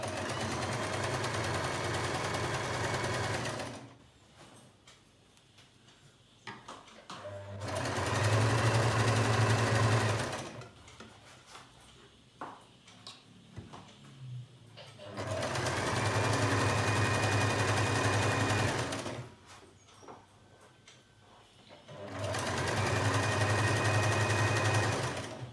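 A sewing machine stitches dori piping for a churidar, running in four loud sustained bursts with quiet pauses between them for handling the fabric.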